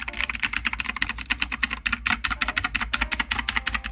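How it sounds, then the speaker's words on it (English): Rapid, continuous clicky keystrokes from a mechanical keyboard with blue switches, loud and close, with an uneven typing rhythm and no talking. "It's a mechanical keyboard with blue switches"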